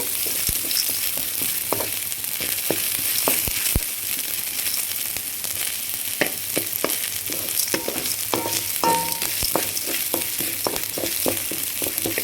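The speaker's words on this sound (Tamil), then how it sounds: "அடுப்ப சிம்லேயே வச்சுக்கிட்டு வதக்கிக்கிங்க" Cashews sautéed slowly in a pan over a low flame give a continuous soft sizzle, with frequent sharp ticks and scrapes from stirring throughout, close and steady.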